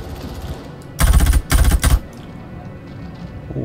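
Two short bursts of rapid automatic gunfire from a gun in Star Citizen, loud and close, separated by a brief pause over a low background of game ambience.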